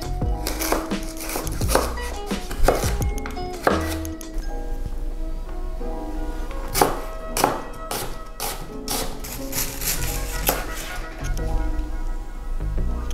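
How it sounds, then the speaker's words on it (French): A knife chops carrot into sticks and finely slices cabbage and onion for Japanese kakiage tempura, sending out loud, close, irregular thumps and taps on a cutting board, with brief pauses between bursts. "il vous faudra couper la carotte en bâtonnets, le chou et l'oignon finement"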